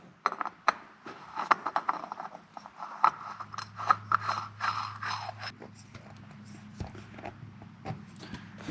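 An oil filter on a 2018 Honda Africa Twin is spun on by hand, giving faint, close scraping and clicking with a steady low hum underneath.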